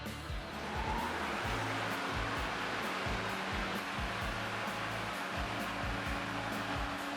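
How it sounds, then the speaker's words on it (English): A 40V 20-inch self-propelled electric lawn mower runs with a steady, smooth whirring hum and broadband rushing noise, holding a constant level from start to finish with no voices. "Using the self-propelled drive while mowing. Start the mower."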